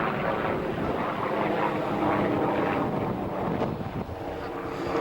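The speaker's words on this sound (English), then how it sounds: "we've got the inevitable noise of an aeroplane" A propeller aeroplane drones overhead near a reservoir where someone is fishing, a steady loud rumble with wind buffeting the microphone throughout, no voices.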